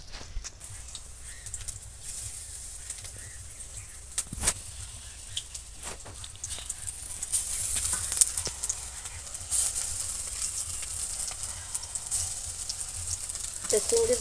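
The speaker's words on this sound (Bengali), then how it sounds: "কতটা মজমজে হবে বুঝতে পারছেন শব্দটা শুনে। আমি বাকিগুলোও এইভাবে ভেজে নেব।" Prawn fritters fry in hot oil, a steady crackling sizzle with sharp pops and bursts that grows louder and busier toward the end, close by, with no voices.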